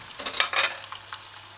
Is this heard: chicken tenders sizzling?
yes